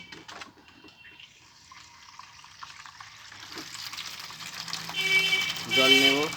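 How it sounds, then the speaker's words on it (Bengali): Water from a tap runs into a container, starting as a faint trickle and growing louder, with a rising, filling tone near the end. "এই হচ্ছে আমার কল, থেকে জল নেবো।"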